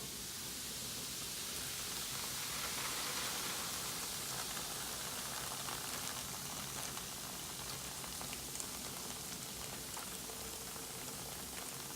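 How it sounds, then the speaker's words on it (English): Steady hissing sizzle of hot water poured over silver for polishing, a continuous bright crackling hiss that stays even and fairly faint from start to finish. "Hear the sizzle?"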